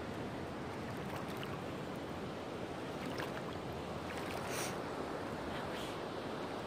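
Someone wades through river water, producing continuous splashing and sloshing with broadband rushing noise, close and steady throughout.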